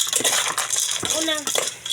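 A spoon clinks and scrapes against a pot while sopas is stirred, with rapid metallic taps and a ringing scrape. A voice is briefly heard along with the clatter.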